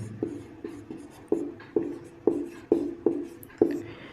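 A teacher writes on a classroom board during a geography lesson, producing about ten evenly spaced firm taps and short strokes in a steady rhythm, close and clear with no talking.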